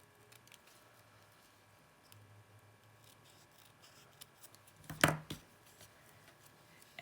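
Scissors snip ribbon ends on a handmade stamped card, a single sharp cut with a short follow-up rustle, close in an otherwise quiet room.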